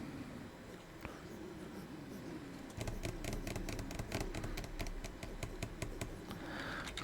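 Redstone engine in the Minecraft video game, switching on partway through and then ticking with fast, regular mechanical clicks over a quiet background hum; no voices.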